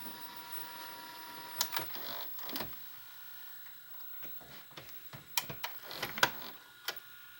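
Tape mechanism of a 2002 RCA VCR clicking and whirring after stop/eject is pressed, a faint, quiet run of irregular mechanical ticks and clunks with clusters of sharper clicks, heard alone.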